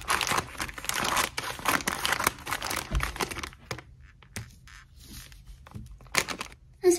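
Squishy toy packaging being opened with safety scissors, giving a run of close crinkling plastic and snipping sounds, busy at first and then sparser, with a louder rustle at the very end.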